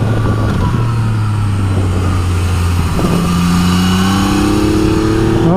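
A Yamaha XSR900 motorcycle engine pulls hard and close, its note climbing through the revs with a brief dip at a gear change before rising again, loud and with no voices.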